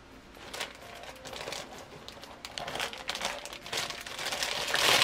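A plastic squishy package bag with a drawstring being opened, giving a steady crinkling and rustling that grows louder and busier toward the end.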